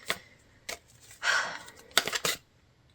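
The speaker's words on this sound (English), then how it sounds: "As I'm shuffling out your cards" Tarot cards being shuffled by hand, in several short bursts of riffling and flicking with a longer rustle in the middle, close and fairly quiet with brief pauses between.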